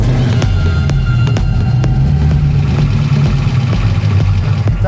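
A project car's engine idling with a steady, throbbing low rumble and regular ticking pulses, loud and close, with a brief voice heard faintly over it.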